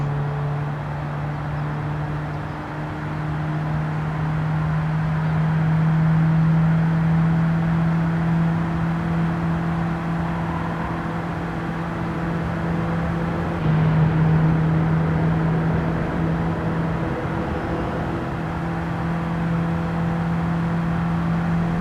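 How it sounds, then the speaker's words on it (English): Toyota C-HR electric car driving in a racing game, a steady electric whine with a constant humming tone and road rumble, sustained and even throughout with slight swells. "So first we're gonna try the Toyota CHR, and let's see the top speed too"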